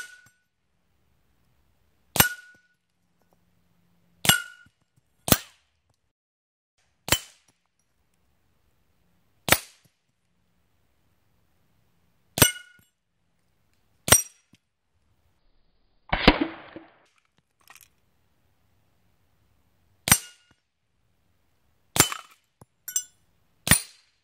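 A Hatsan Galatian Tactical semi-auto air rifle fires at steel targets, each sharp crack followed by a ringing ping, about a dozen shots in irregular bursts with a short rustle midway and a quick string near the end.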